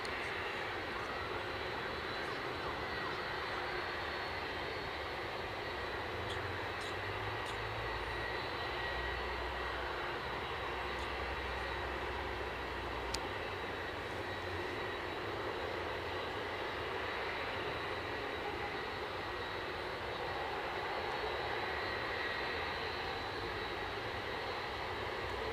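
An inbound British Airways aircraft arriving at Edinburgh airport, heard as a faint, steady engine drone that continues evenly throughout without breaks.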